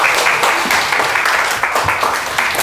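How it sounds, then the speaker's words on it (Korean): An audience at a lecture festival claps together, a bright, dense burst of applause that holds steady for a few seconds. "박수 한번 주십시오"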